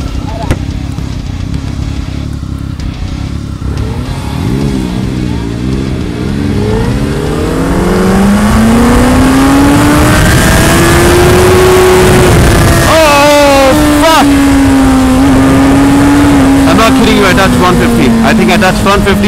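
A 2016 Suzuki Hayabusa motorcycle accelerating hard, engine note climbing steeply through the revs and holding a loud high whine close by, with wind rush and people talking over it.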